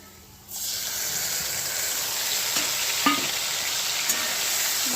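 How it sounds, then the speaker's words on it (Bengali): Potatoes lightly frying in a pan burst into a loud, steady sizzle after a brief quiet moment. The hiss holds throughout with a few small pops and stirring scrapes. "আলুটা আমি হালকা করে ভেজে নেব।"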